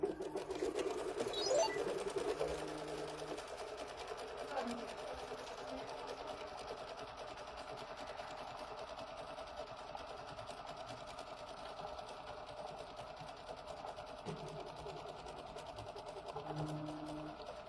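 A home embroidery machine stitches a quilt design in a hoop, a steady, close mechanical whir with a fast needle rhythm running continuously throughout, with a few brief higher tones in the background.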